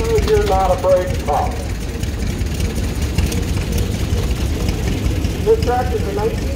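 A 1929 Minneapolis tractor idles at a farm club tractor parade, a steady low engine chug running throughout while a person talks over it over loudspeaker-style narration.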